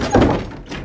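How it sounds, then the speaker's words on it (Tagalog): A door being opened: a single dull thunk, followed by a brief creak and a faint click, close and fairly loud, with no voices. "Napatingin kaming dalawa sa bumukas na pinto."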